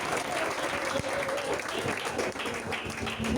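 Worshippers at a church service applaud, thick continuous clapping from a crowd close by, sustained at full volume with some voices under it.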